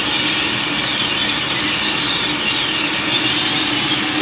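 A CNC laser cutting machine cuts steel with a loud, steady high-pitched hiss and whine over a constant mechanical drone, close and unbroken throughout, with no voices.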